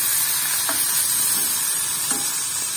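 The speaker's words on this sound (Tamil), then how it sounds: "அது வரைக்கும் நம்ம வறுக்கலாம்" Plantain slices fry steadily in hot oil in a pan, giving a constant close sizzle with a couple of soft scraping stirs.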